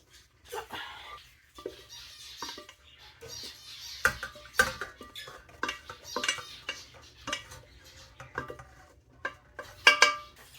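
Cooked beans are strained into a bowl, with spoon and metal clinks, scrapes and liquid sloshing in irregular bursts, a person speaking at times between the clatter.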